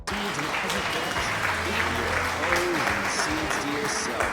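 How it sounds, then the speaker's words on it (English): Dense, continuous clapping from a crowd in the video game GTA Vice City fills the whole stretch at a steady level, with faint voices mixed underneath. "Don't use sarcastic applause on me"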